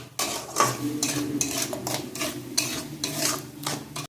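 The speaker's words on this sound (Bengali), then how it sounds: "এটা নাড়াচাড়া করে রান্না করে নেব" Ripe palm pulp and sugar cook in a pot, stirred with a spoon that scrapes the metal in quick, repeated strokes over a faint sizzle, close and steady throughout.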